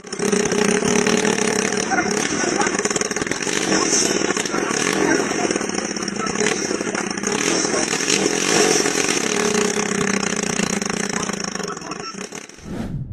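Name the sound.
homemade helicopter engine running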